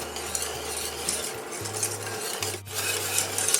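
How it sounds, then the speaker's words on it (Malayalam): A spoon stirs cocoa powder into hot milk in a pan, producing a steady scraping, rasping swirl with a low hum underneath and a brief pause near the middle. "ഇനി ഇത് നന്നായിട്ടൊന്ന് ഇളക്കി കൊടുക്കാം."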